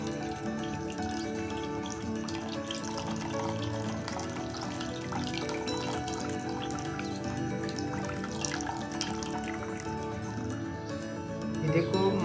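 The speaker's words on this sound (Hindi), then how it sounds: "इसमें ये जो ठंडा पानी है वो भी डालें ताकि ये नरम हो जाए।" Cold water is poured into hot sugar syrup for chenna rasgulla, a steady, fairly faint splashing and trickling stream that runs continuously beneath talking.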